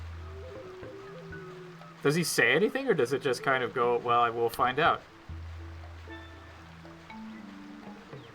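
A waterfall in the video game The Curse of Monkey Island gives a steady rushing wash of water beneath game music, continuing under someone talking and persisting after he stops.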